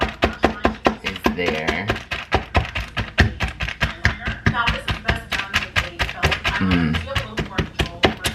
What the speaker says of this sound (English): Right now I'm just taking a fork and like poking it so I can make it really tender.